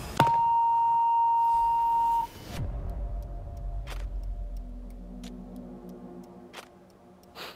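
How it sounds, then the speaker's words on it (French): A game show buzzer gives one steady electronic tone for about two seconds, then cuts off, leaving faint room noise and a few soft ticks. "Je pense que là, c'est l'heure du dernier buzzer"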